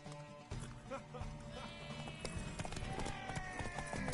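Horse hooves clip-clopping in The Witcher video game, a rapid steady gallop of hoofbeats under music and other game sounds, with voices talking over it.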